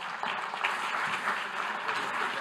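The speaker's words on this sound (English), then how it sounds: "So a big round of applause, please, for Kevin." A conference audience applauds a guest speaker, steady moderate clapping from a crowd heard at some distance, with no voices over it.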